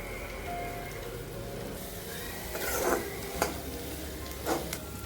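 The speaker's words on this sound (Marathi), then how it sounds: "जिरे, मोहरी, लसूण, कढीपत्ता, कोथिंबीर, कांदा, मिरची टाकून बटाट्याची भाजी करायची आहे।" Potato bhaji cooks in a tempering of cumin, mustard seed, garlic, curry leaves, coriander, onion and chilli, giving a soft continuous sizzle broken by a few faint scrapes and taps as it is stirred.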